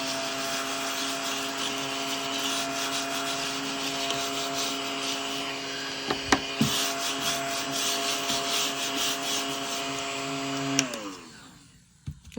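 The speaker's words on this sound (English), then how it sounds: "Here's my cute little cat vacuum." A small cat-shaped desk vacuum runs with a steady whirring hum for about eleven seconds, close to the listener, with occasional scraping bumps as it moves, then winds down and cuts off near the end.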